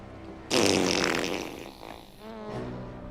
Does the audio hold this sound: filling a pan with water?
no